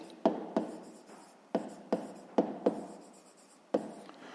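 A pen writing on paper in short separate bursts of scratchy strokes, about seven quick scribbles spaced with pauses, close and fairly quiet, during a fifth-grade math exercise.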